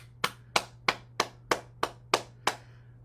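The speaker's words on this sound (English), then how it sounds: "let's clap our hands" Eight sharp hand claps at a steady, unhurried rhythm, each crisp and close with a short decay, over a faint low steady hum.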